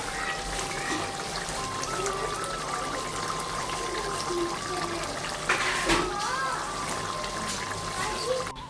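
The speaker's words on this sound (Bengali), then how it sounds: "একটু নাড়াচাড়া দিয়ে এবার এতে দিয়ে দিল ঝোলের পানি" Water is poured into a simmering meat curry on a home stove to make gravy, a continuous trickling splash under a voice.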